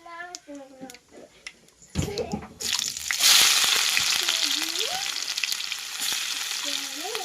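Onions are dropped into hot oil after fried ridge gourd, setting off a sudden loud, steady sizzle that continues close by, with voices talking before and during it, including a child.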